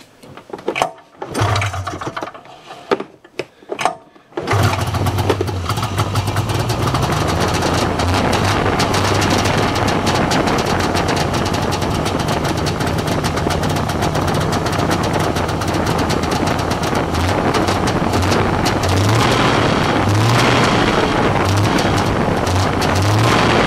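An Arctic Cat Puma 340 snowmobile engine, just after carburetor cleaning, sputters through a few brief attempts, then catches and runs loud and continuous at a steady idle, close by with some wind buffeting.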